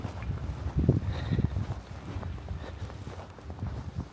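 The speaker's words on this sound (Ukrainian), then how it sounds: "Дуже вітряно." Strong wind buffets the microphone outdoors by a river, a continuous low rumbling roar with irregular gusty surges and no voices.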